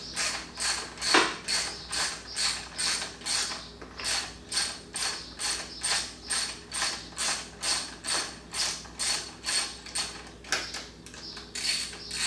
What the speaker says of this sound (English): so now we are going to take a socket here and unbolt